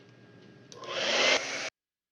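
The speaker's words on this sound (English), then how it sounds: "I'm going to dry all this" A hair dryer switches on to dry an acrylic winter farm painting, its airy roar swelling loud after a quiet start, holding briefly, then cutting off abruptly to silence.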